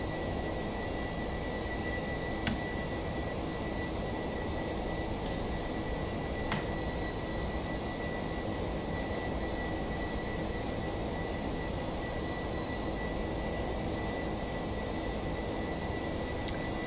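Steady, broad jet roar from a Boeing 757-200 flyby in the X-Plane 12 flight simulator, holding at an even, fairly quiet level for the whole stretch with a few faint clicks.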